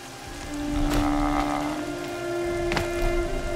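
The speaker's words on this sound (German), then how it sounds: "sehen tue ich gerade auch ganz schlecht, wegen dem dämlichen Regen" Rain falling in the video game Horizon Zero Dawn, a steady hissing shower with game tones and a couple of brief thuds layered over it, fairly loud and without speech.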